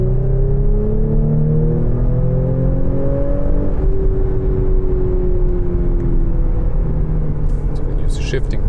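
A 2017 Audi S5 Sportback with a V6 engine accelerates hard after its automatic gearbox drops back three gears, its engine note climbing steadily in pitch as a loud, continuous drone heard from inside the car.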